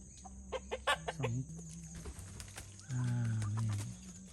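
Chickens clucking as they climb up into their coop to roost for the night, several nearby birds giving short irregular clucks and a longer drawn-out call toward the end.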